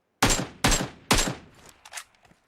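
Three loud, evenly spaced gunshots in PUBG Mobile, each with a short decaying tail, followed by fainter scattered clicks and distant pops.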